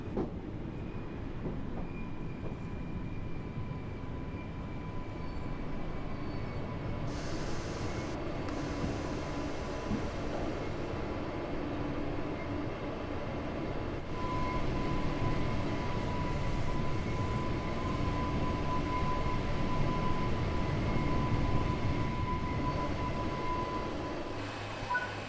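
A Great Western express train in Train Sim World 3 runs at speed, a steady droning rumble of wheels and motors with thin whining tones above, even and moderately loud throughout with no talking.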